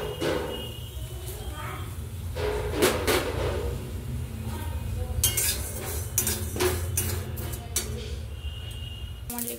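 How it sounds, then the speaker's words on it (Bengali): Whole spices and poppy seeds are stirred in a dry wok over a gas flame, giving scattered scrapes, clinks and taps of the utensil against the pan, with some talk in between. "শুকনো কড়াইয়ে আমি নেড়ে নেব"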